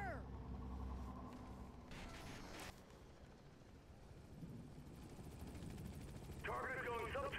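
A loud helicopter drone and rotor rumble in Manhunt 2 runs under a voice throughout, with bursts of game noise and a sharper metallic sound near the end.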